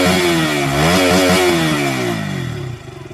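A KTM RC200 motorcycle revs loudly up close, its exhaust note climbing and then falling away, with a rasping, buzzy edge.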